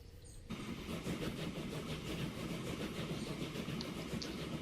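Train rumbling along in the rail simulation game Transport Fever 2, a steady rolling drone of wheels and engine with faint clicks above it, continuous and fairly loud after a brief quiet opening.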